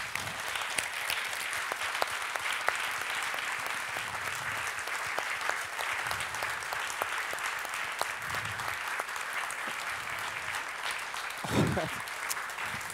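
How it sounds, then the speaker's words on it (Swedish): Warm applause from an audience at a formal farewell ceremony, a sustained patter of many hands heard from a distance, with a few brief murmurs and a short louder burst near the end. "En varm applåd."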